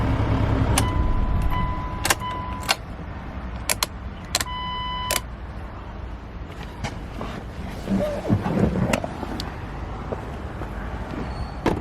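A 2000 Mitsubishi Pajero Exceed diesel is switched off, its engine rumble fading against a steady background while several sharp clicks, key and door-like knocks sound nearby, with no speech.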